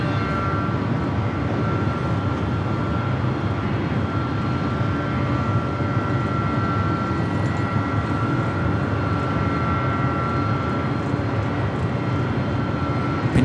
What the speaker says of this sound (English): this is now the third day in a row I've seen this Qantas Dreamliner coming in from Vegas.